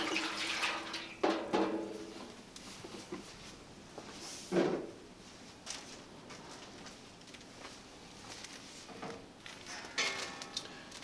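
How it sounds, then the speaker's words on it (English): Room-temperature water poured into the basin of a humidifier, heard as intermittent close splashes and trickling bursts separated by quieter gaps, with a few clunks of handling. "we just want to fill this with about 2 quarts of"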